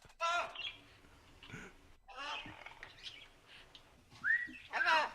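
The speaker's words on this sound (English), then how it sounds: "A little parrot background noise." A pet parrot calls in the background with short whistles and chirps, some rising tones, sounding intermittently between and over people talking indoors.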